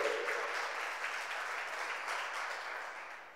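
A church congregation applauds God during a bilingual sermon, a steady wash of many hands clapping, fairly distant and soft, fading slightly toward the end.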